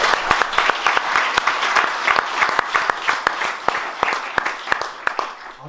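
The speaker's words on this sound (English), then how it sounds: "So a big round of applause for Trevor." Audience applause at a CD launch show for a remastered album, steady dense clapping with sharp individual claps standing out, moderately close and continuous for several seconds before tapering off.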